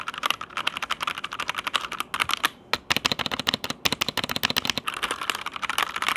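Rapid, steady keyboard typing close by, many crisp key clicks in quick succession with a couple of brief pauses, no voices.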